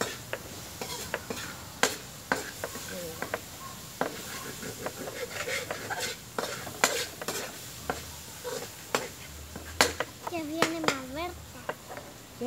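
Sausage browning in a pan for stewed beans, sizzling steadily under repeated scraping and stirring clicks of a utensil, with faint background voices.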